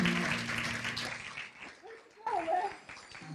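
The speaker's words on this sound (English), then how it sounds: "please, a big round of applause" Applause from an audience at a zero waste summit, greeting the co-founder and co-president of Eureka Recycling, with a mix of clapping and chatter that fades as voices and a child's speech take over.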